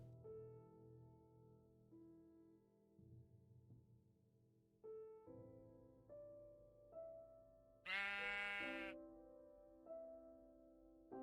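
Sheep bleating in the Minecraft Monifactory modpack, one short wavering bleat over a quiet background of soft tonal game music.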